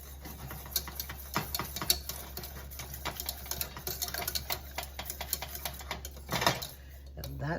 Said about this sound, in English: add some Dijon mustard. And we're going to whisk that in too.